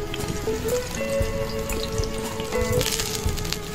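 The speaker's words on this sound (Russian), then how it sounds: "я думаю, вы слышите, как она скворчит, а капает сок на угля, на вишневые." Chicken tabaka sizzles on a grill over cherry wood coals, with fat and juice dripping and crackling onto the embers in a busy, close, continuous spitting sizzle; no one speaks.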